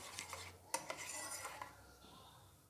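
Almond essence stirred with a spoon into a blended ice cream mixture in a metal container, giving light clinks and scraping taps for a few seconds, fairly quiet with no talking.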